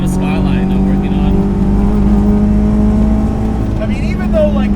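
A 385 whp supercharged Honda S2000 track car drones loudly and steadily from inside the cabin, its engine holding a constant strong hum, with a voice speaking briefly over it.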